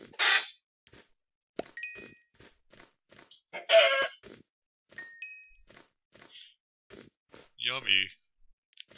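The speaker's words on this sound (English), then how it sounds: "I hear that chicken." Minecraft chickens cluck in short, sparse bursts amid pings and dings from the game, with a speaking voice heard intermittently between the sounds.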